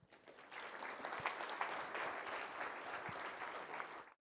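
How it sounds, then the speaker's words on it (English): Applause from a conference audience, a steady wash of many hands clapping at moderate distance for about four seconds before cutting off. "Let's give a last final round of applause to our speakers."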